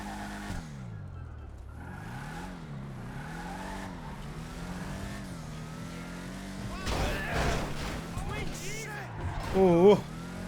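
A Rapid GT Classic car in GTA 5, its engine revving and surging steadily with rising and falling pitch, growing louder near the end with a brief tire squeal.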